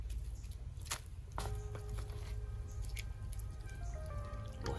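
Water from a bottle splashes and drips while fish are washed outdoors by a bridge, a close, continuous trickle with scattered drips over low background rumble.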